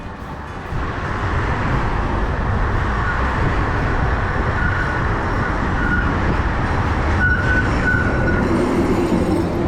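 A tram in Kraków rolls past close by with a loud, continuous rumble of wheels on rails, joined near the end by a few short high metallic squeals.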